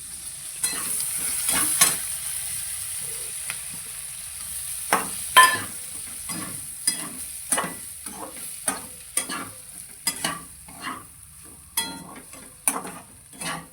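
Bitter gourd (karela) is stirred with black masala and spices in a sizzling pan, with a steady frying hiss under repeated spoon scrapes and taps against the pan, close and clear.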